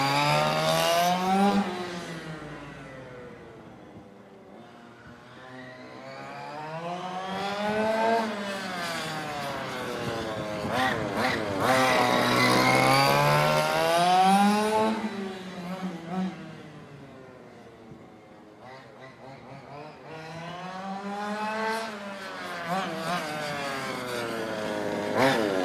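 A fifth-scale engine being broken in, revving loud and close as the throttle is rolled on and off, its pitch climbing and falling in long repeated sweeps with no pause.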